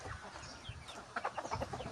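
Several short clucks from chickens close by, bunched in a quick run near the end over a low background rumble.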